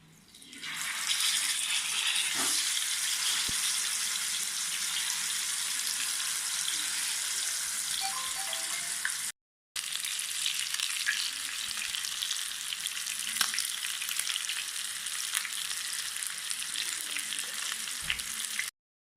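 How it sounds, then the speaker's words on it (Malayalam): Marinated tandoori chicken frying in a pan, a loud, sustained sizzle with occasional clinks, unbroken except for one brief gap midway, no talk. "ഇനി ഇവനെ ഒന്ന് വറുത്തെടുക്കാം."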